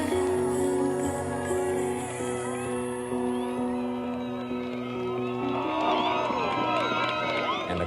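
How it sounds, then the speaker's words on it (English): Crowd cheering as climbers finish the Dawn Wall, a lively mix of shouts and whoops with overlapping voices and a sustained tonal drone beneath, growing busier toward the end. "The crowd cheered as the 2 men accomplished a feat many said was impossible."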